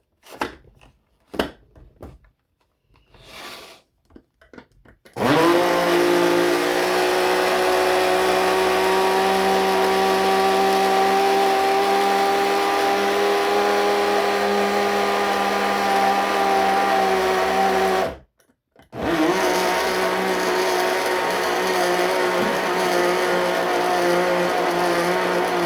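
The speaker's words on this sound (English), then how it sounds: "So I've got a little coffee grinder. I'm going to grind it into a powder." A small electric coffee grinder pulverises dried rosemary, thyme and other seasoning herbs into powder: a few short taps and rattles, then a loud, steady whirring motor drone that runs for about thirteen seconds, stops briefly, and restarts.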